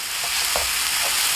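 Chunjang black bean paste stir-fried in a wok over medium heat, giving a steady soft sizzle with a few brief scraping stirs, heard up close and alone.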